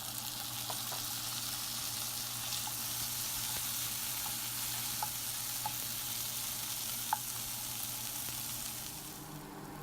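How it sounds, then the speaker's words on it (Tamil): Tomatoes fry with onions in a pan for idli and dosa kurma, an even, close sizzle with a few faint pops and a soft stir, holding steady throughout with no one talking. "இப்போ தக்காளி ஆட் பண்ணுறோம்."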